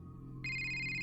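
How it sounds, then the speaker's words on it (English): A phone rings nearby with a steady, bright electronic ringtone that starts suddenly partway through and keeps sounding, with no talk over it. "But then her phone rang."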